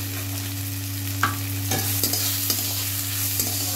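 Spices with salt, turmeric, cumin powder and green chillies stir-fried for dal, a constant loud sizzle with a few scraping strokes of a spoon in the pan and a low steady hum beneath.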